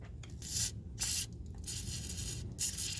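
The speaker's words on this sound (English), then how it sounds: "We're gonna spray it really well." Lubricant is sprayed from an aerosol can onto the exhaust boot of a 2005 Infiniti FX35 during a glasspack install, heard as several short, quiet hissing bursts separated by brief pauses over a low background rumble.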